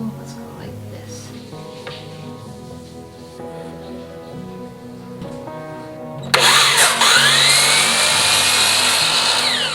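Starts with a low mechanical hum and soft clatter, then a power tool bursts on loudly and cuts steadily into a wooden panel piece, a harsh, sustained whine close up.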